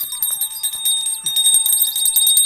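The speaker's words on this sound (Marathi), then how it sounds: "हे घंटी वाजत चला रस्त्यात" Small bells ringing during a Gauri procession along a road, a bright continuous jingling with rapid tinny strikes, loud and close, with no speech over it.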